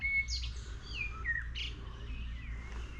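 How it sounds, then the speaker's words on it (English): Birds sing in the old town of Ohrid, North Macedonia, giving bright, varied chirps and short warbling phrases over a low, steady background hum. "Birds are singing."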